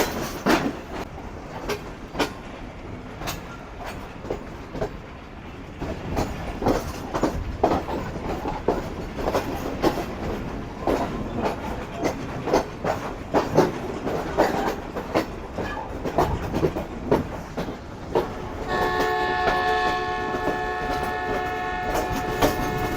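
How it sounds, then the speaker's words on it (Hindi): Karakoram Express train on a winter run from Karachi to Lahore, rumbling and clattering steadily up close before the driver's danger whistle blares a sustained, loud, multi-tone blast through the final seconds. "तो ड्राइवर साहब ने डेंजर विसल दिया है"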